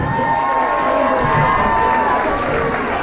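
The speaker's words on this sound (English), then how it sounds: "a massive round of applause for Mr. James Leigh Howarth" A large crowd cheers and applauds continuously for a boxer at a white-collar boxing event in Oxford, with loud, steady roaring and shouts throughout.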